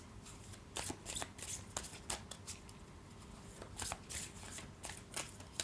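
A tarot card deck is shuffled in soft, irregular riffles and slides, quiet and close, with bursts of card flicks scattered across several seconds.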